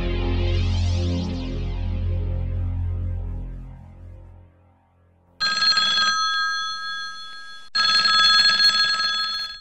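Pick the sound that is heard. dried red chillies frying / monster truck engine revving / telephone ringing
telephone ringing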